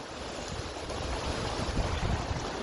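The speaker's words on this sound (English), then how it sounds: "There's some lovely sound of the water flowing." Water flowing steadily along a slow canal or river beside a walking route, a constant broadband rushing wash with slight surges, close and fairly loud, with no voices over it.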